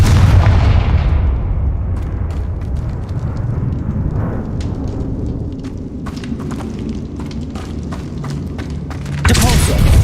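A Confringo fire spell explodes in Hogwarts Legacy, a loud booming blast that opens the moment and rumbles on as a heavy roar. Several sharp impacts follow, and another loud burst hits near the end.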